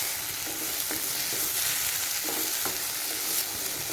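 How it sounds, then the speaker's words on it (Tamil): Pumpkin pieces frying in a pan for a sweet pumpkin halwa, a steady close sizzle of hot fat with a few soft scraping stirs of the spoon, and no talking. "இப்போ பூசணிக்காய் எல்லாமே ரொம்ப சூப்பராக ஃப்ரை ஆகி வந்துடுச்சு"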